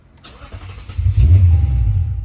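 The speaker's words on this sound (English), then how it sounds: "when I start this car, because I disconnected the battery, it is going to start for like a second" A Lexus IS engine cranks and catches after its battery was disconnected, rising into a loud, rumbling idle at close range; no voices.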